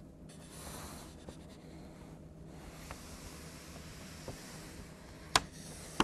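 Hand drawing on a board during a lecture on a parallel RLC circuit, soft scratchy marker or chalk strokes in short bursts over a quiet room hiss, close and faint, with no talking.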